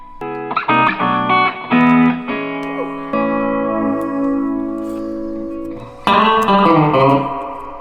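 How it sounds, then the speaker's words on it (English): Electric guitar plays sustained notes and chords with a distorted tone, delay and reverb pedals in the amp's effects loop adding repeats and a reverberant wash trailing behind, close and loud. "So now we got delay and reverb in the effects loop."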